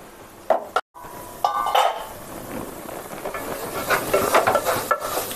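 A metal lid set onto a pot of carrot and beetroot halwa cooking with jaggery, a couple of sharp clinks and clatters followed by the steady hiss and bubbling of the simmering pot, close by, without talk.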